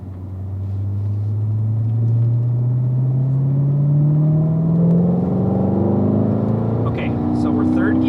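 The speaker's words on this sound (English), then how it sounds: "As you're going over this drop, kind of ease back on the throttle and accelerate down the hill." A car on a racetrack accelerates in third gear, its engine note climbing steadily and loudly from start to finish with a close, rumbling tone.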